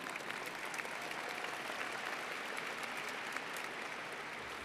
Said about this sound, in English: Yes, that's worth clapping for.